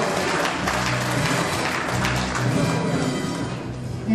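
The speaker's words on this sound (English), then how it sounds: "Ladies and gentlemen, a big round of applause to Mr." An audience applauds at a Confederation Day ceremony for war veterans and ex-servicemen, a steady, dense wash of clapping lasting throughout with a low hum beneath.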